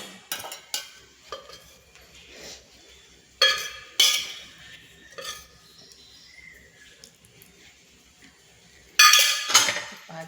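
Rice and ghee are mixed in a pot for chicken biryani, giving scraping, metallic clanks and clinks in uneven bursts, with louder strokes near the middle and end.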